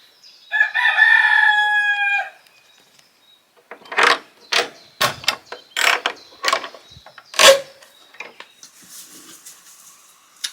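A rooster crows loudly up close, followed by a run of sharp, staccato clucks and squawks from nearby chickens.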